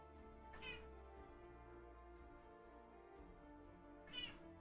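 A house cat meows twice, a few seconds apart, moderately close and clear over a low steady background hum.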